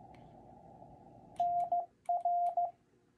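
Morse code CW sends the letters N and R as a clean steady tone broken into short dits and longer dahs over a faint background hum, two brief groups close together.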